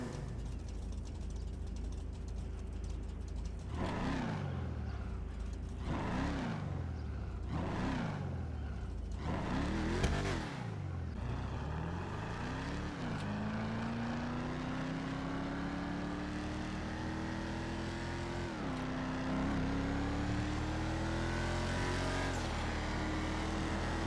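A car engine in GTA Online revs repeatedly in sharp rising and falling sweeps, then pulls through long climbing gear runs, loud and alone with no talk.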